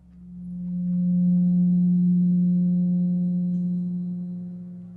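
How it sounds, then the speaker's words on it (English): A steady pure tone of 180 cycles per second, standing for the 180 degrees of a triangle, swells in over the first second, holds level and alone, then tapers slightly toward the end. "let's listen to what the 180 total degrees contained in a triangle sound like"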